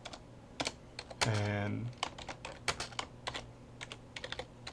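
Typing on a computer keyboard: rapid, irregular clicks of keys close by, with one longer louder burst near the start and a brief spoken word.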